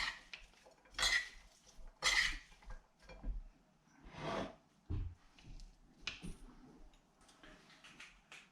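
A tomato salad dressed with olive oil, salt and pepper is tossed in a bowl, with a few separate bursts of utensils clattering and scraping against the dish, close by over a quiet background.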